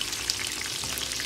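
Pork intestine and sausage pieces fry in hot oil in a pan, with a steady, dense crackling sizzle throughout and no talking over it.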